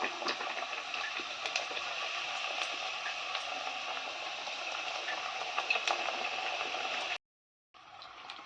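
Elladai rice crackers frying in hot oil give a steady, dense crackle and sizzle that runs evenly and close, then cuts out briefly before resuming.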